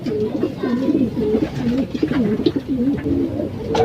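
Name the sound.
young pigeon cooing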